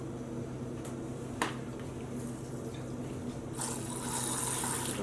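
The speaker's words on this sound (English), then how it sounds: "I'll wash out my syringe." Water runs from a tap while a dye syringe is rinsed out during acid dyeing of roving. A couple of faint clicks come first, then a fuller rush of water near the end.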